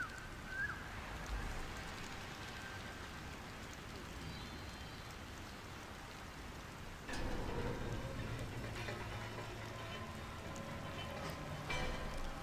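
Chilly rain in the Hidden Forest area of the video game Sky: Children of the Light, a steady soft patter that grows slightly louder and denser partway through.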